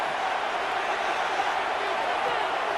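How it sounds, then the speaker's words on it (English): A simulated stadium crowd in a Madden 26 NFL football game, Lions against Chiefs on Sunday Night, roars in a steady, dense wash as the play reaches third down. "This crowd into it now as we get to third down."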